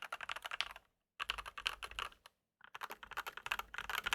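Fingers type on a Yunzii YZ75 Pro mechanical keyboard in close, rapid bursts of clacky keystrokes, separated by two short silent pauses.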